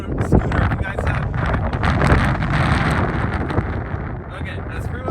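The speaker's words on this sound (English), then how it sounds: "It's a little windy out here" Gusty wind buffeting the microphone outdoors during an electric scooter ride test, a loud rumbling roar that rises and falls throughout.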